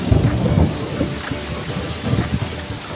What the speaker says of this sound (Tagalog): Lakas na, grabe talaga ulan.